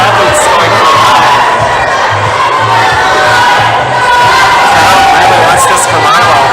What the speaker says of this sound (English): Crowd's excited here for Milo.